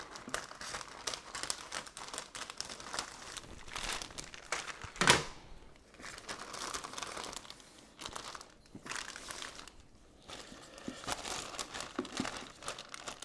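A thick plastic Umai dry-aging bag around a bone-in ribeye being trimmed, with loud close crinkling and rustling in irregular bursts, one sharp snip-like crackle partway through and short quiet pauses between handlings.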